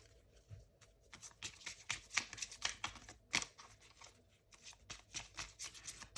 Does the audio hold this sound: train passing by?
no